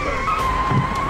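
A car skids out of control in an action film scene, giving a loud, sustained tire screech with a steady high whine over engine rumble throughout the short moment.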